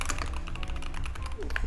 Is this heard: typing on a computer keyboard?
yes